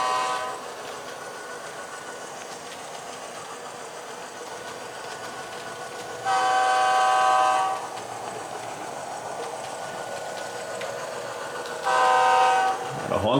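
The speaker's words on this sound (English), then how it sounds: "A honk for the horses." A model train locomotive, a hauler pulling in from staging with four cars, sounds two loud sustained horn honks, the first longer, over a steady background hum of the running layout.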